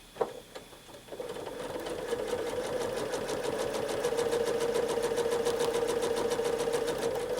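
Sewing machine running steadily during free-motion quilting of flowing lines, a continuous rapid stitching buzz after a few brief starts, close and fairly loud with no talking.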